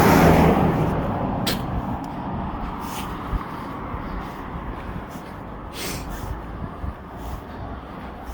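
A car passes close by on a quiet road, its rumble loudest at the start and fading steadily as it moves away, leaving soft background noise.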